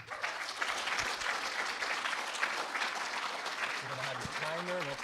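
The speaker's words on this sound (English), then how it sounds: "Give us a round of applause." Steady applause from an audience fills the whole stretch, dense and even, with a brief voice rising near the end.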